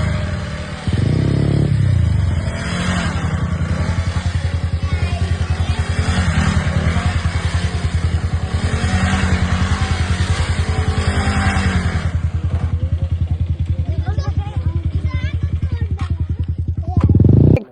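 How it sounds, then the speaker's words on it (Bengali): A motorcycle doing a rolling burnout during a Sunday group ride, its engine revving hard and steady for most of the stretch with clattering mechanical noise, loud and close, easing off near the end. "রোলিং বার্ন আউট হয়ে যাবে এখানে"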